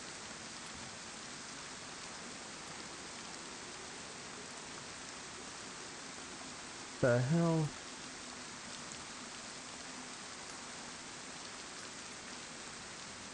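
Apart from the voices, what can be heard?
rain in video game DayZ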